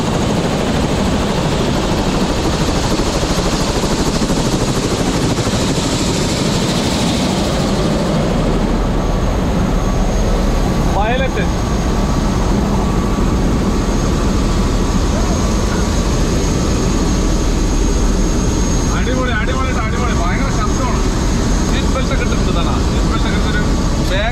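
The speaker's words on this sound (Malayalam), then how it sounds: "അങ്ങനെ നമ്മുടെ ഹെലികോപ്റ്റർ വന്നിട്ടുണ്ട്" Inside or beside a red-topped tour helicopter over Palm Jumeirah, the engine and rotors roar loud and unbroken, a dense steady drone with faint voices beneath it.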